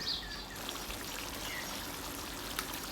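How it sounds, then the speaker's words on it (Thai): Water is poured into a pan of stir-fried pork ribs with southern Thai curry paste and shrimp paste, a soft, steady trickling splash close by, quiet and without talk. "เติมน้ำลงไป เล็กน้อย"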